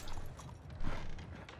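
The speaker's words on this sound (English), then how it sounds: "That horse is just gonna wander the streets now." Faint hooves clop on a street as a horse wanders in a Wild West roleplay video game, a few soft, uneven steps over low background noise.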